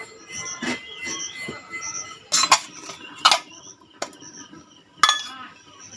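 A lid set onto a pot of simmering Indian-style crab curry after water is added: three or four sharp, close metallic clanks and clinks rise out of a low, steady kitchen hum, with quieter scrapes between them.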